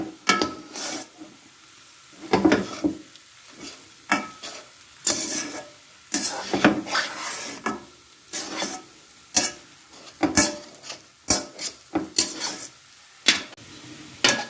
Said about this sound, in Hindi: चम्मच आपने मुसलसल चलाते रहना है। जब तक इसे भूनना है ये घी ना छोड़ दें।